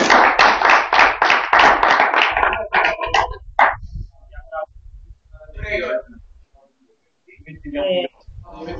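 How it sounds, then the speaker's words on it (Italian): Brief applause at a weekly association meeting in Rome: a burst of rhythmic clapping opens, then fades as people begin talking. "Un applauso."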